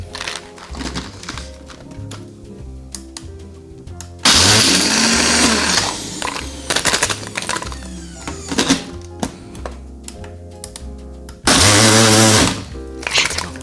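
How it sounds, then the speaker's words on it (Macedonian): A kitchen blender runs in two loud bursts of about seven and two seconds, crushing whole ice cubes for a mojito, with a softer clattering, rhythmic background between the bursts. "Ако немате некој блендер кој крши мраз, слободно ставете цели коцки мраз."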